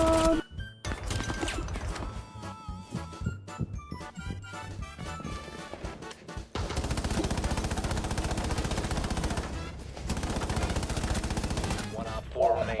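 Video game gunfire with dense bursts of rapid shots, scattered single cracks early on, then a long, loud continuous volley.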